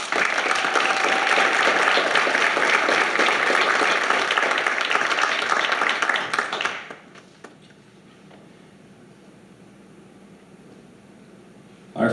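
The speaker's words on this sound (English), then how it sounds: "let's give them one more round of applause" A large audience at a poetry recitation competition applauds loudly and steadily for several seconds, then the clapping abruptly stops, leaving quiet room noise.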